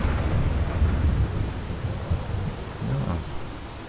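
Rain and rolling thunder in the survival game Hobo Tough Life, a steady wash of rainfall with deep low rumbles swelling underneath, no voices present.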